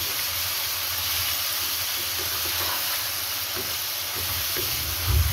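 Chicken pulao ingredients fry in a pan, giving a steady, even hiss and sizzle that runs throughout with no talking, close and moderately loud, ending with a soft bump.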